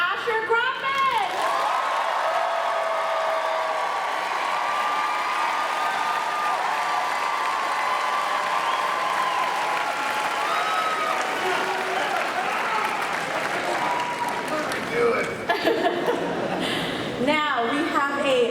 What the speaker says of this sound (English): Clap it up for Asher Grumman!